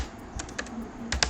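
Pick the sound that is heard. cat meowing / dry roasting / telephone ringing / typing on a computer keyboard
typing on a computer keyboard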